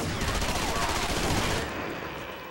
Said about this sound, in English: Who is shooting a freaking hive cannon at me?